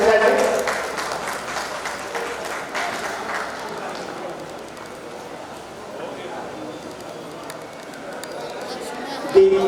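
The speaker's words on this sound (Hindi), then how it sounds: "तालियां बजती रहनी चाहिए।" Applause from the audience at a village-head (mukhiya) dialogue meeting in Giridih district, Jharkhand: steady crowd clapping, loudest at the start, that gradually thins out while a voice speaks over it.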